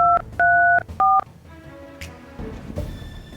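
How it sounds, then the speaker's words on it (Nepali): A telephone number is dialed on a keypad: three short, loud touch-tone beeps in quick succession, then a quiet background hum. "अहिले फोन हान्छु नि"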